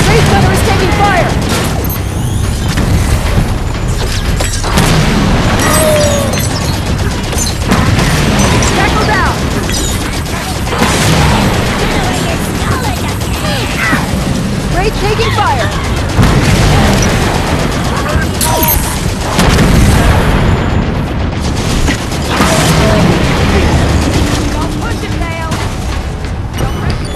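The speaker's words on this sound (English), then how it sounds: "Get down, grenade!" Loud grenade blasts and booms in the Halo 5: Guardians video game during a chaotic firefight with gunfire and crashes throughout, while voices shout over the combat.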